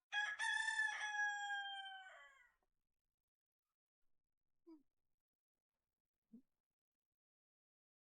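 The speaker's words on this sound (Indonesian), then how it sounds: "Bagaimana dengan ayam aduan ini?" A fighting rooster crows once, loud and close, in a long cock-a-doodle-doo lasting about two seconds, followed by near silence with a few faint short sounds.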